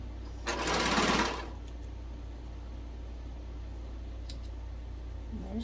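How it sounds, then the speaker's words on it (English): A sewing machine runs in one short burst of about a second, stitching a quarter-inch seam on a tee shirt. Afterward it sits quiet over a steady low hum, with a few faint clicks. "So now I'm just going to sew 1/4 of an inch down"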